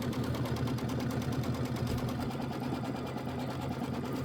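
Sewing machine tacking down quilt background fabric, a close, continuous rapid needle chatter at a steady pace throughout.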